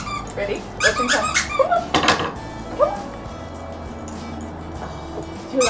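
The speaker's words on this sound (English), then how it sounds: "So we've got a little plush dog toy with Squeaker." Squeaker in a small plush dog toy gives several quick high squeaks in bursts, mixed with a dog's movement and soft vocal noises in a room; a person talks briefly near the start.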